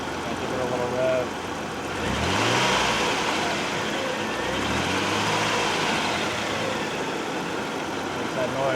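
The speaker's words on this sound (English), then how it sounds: "let the car run for a couple minutes and give it a little rev" Mitsubishi 3000GT engine idling, then given a short rev that swells and settles, with a faint drive-belt chirp possible under the steady engine drone.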